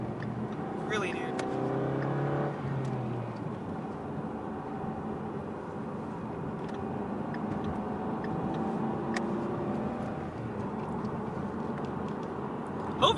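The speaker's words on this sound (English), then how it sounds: "The car sounds freaking amazing." A turbocharged Mustang engine drones steadily from inside the car while driving, rising briefly at first and then holding a low, even hum under a driver talking.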